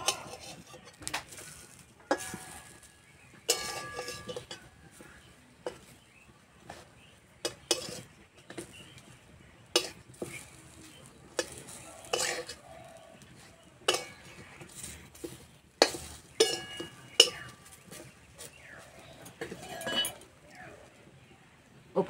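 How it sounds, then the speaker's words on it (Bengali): Eggplant slices are flipped one by one in a covered pan while they dry-fry without oil. Quiet, scattered metallic clinks and scrapes of the utensil against the pan come in irregular bursts over a near-silent background. "এবার বেগুনগুলো উল্টে দেব।"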